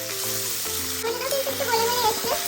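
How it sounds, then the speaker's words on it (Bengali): Two chopped medium tomatoes fry with onions in a pan, a continuous close sizzle with occasional crackles and stirring scrapes, over a faint tonal background hum. "তো টমেটোটা একটুখানি আমি ভেজে নেবো।"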